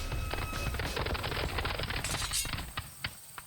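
Cavalry horses charging in an open field during a Seven Years War battle video game at Minden, a busy stream of hoof clatter and rattling gear that thins toward the end into a few scattered thuds.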